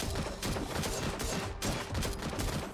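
Gunfire in the mobile survival game Last Day on Earth: Survival, a steady stream of rapid shots and impacts, loud and close, pulsing in short bursts with a brief dip midway and no clear talk.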